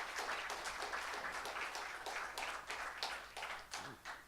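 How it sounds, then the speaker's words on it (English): Quiet audience applause at a talk on caring for the land in the Dehcho Territory, many separate hand claps in a loose, uneven rhythm, sounding somewhat distant and faint. "Can we get just one more round of applause, please?"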